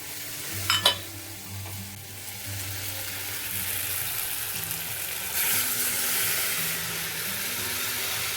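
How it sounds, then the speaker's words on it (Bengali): Spice masala frying in oil, a steady close sizzle with a couple of sharp utensil knocks near the start and a brief hissing surge midway. "এবার এটা ভালোভাবে কষা হতে থাক"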